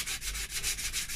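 Fine 120 to 150 grit sandpaper, partly worn, rubs over painted primer on a clock, giving rhythmic back-and-forth scratchy strokes, about six quick passes, close and distinct.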